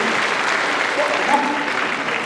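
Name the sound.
audience applause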